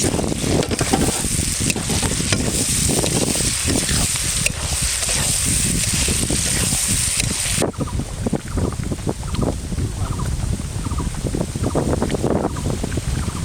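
Potatoes stir-fried in oil in a pan for a village-style fish curry give a loud, steady sizzle close by, with scraping stirs, gusts of wind noise and a few voices in the background.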